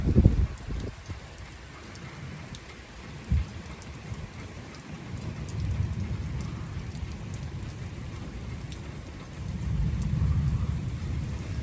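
Rain falls steadily on a garden in Zonguldak during a flooding storm, with low thunder rolling in the distance and swelling at times, and no voices.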